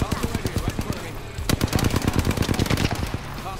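Rapid automatic gunfire rattles in quick bursts during a video game shootout, loud and close, with a short pause before another sustained volley, and a voice speaks under it.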